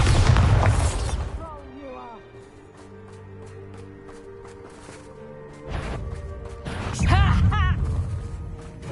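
A Bombarda spell blast in a wizarding game, a heavy booming burst opening the clip, then quiet tonal music, then another rumbling crash with whooshing effects and a voice speaking over it.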